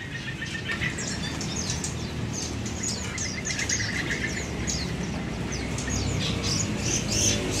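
Several caged songbirds, including cucak keling, chirp and tweet continuously over a dense, noisy background at a Bali bird market, with overlapping calls and no talking.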